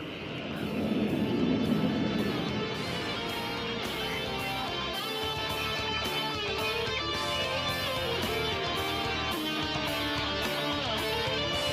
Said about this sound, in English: These glossy bright aircraft that you just saw in the skies